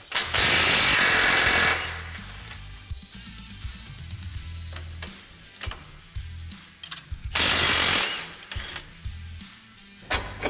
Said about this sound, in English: Now we're going to remove our hardware securing our knuckle to our trailing arm